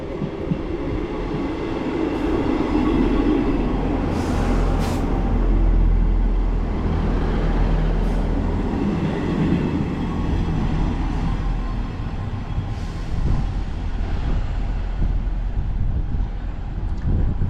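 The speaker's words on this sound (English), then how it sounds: "Here we've got an Edinburgh service arriving onto the same platform." A diesel passenger train, 158732 from Perth, rumbles into a platform at Ladybank, a steady low engine drone with wheel clatter and brief squeals, loud and close throughout.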